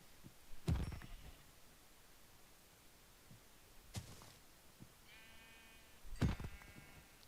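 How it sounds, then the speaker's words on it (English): Blocky Minecraft sheep bleat in three short, separate calls spread across the stretch, each brief and fairly clear against a faint, quiet background. "there's a white sheep"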